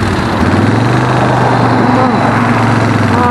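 Suzuki Desperado 800X V-twin cruiser motorcycle engine running steadily while riding, a loud close continuous low throb with a pulsing rumble, a rider talking over it.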